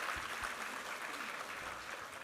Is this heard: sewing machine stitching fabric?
no